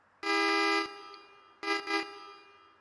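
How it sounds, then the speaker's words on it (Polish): Horn of a Jelcz L100I city bus in the OMSI driving simulator: a loud, buzzy, tonal honk held for over half a second, then after a pause two shorter blasts in quick succession. "Nowy dźwięk klaksonu."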